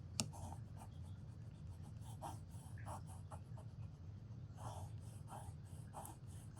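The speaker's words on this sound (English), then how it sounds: "you really just want to make sure you burnish your folds as flat as you can" Paper folds on a flower-themed mini album being burnished flat with a tool, giving faint, repeated scraping and rubbing strokes in an irregular rhythm, heard close up in a quiet room.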